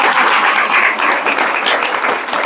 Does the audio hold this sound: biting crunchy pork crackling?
no